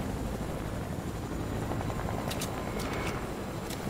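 A helicopter in the Fortnite video game, with continuous loud rotor whir and engine drone filling the whole stretch and a few sharper clicks near the end.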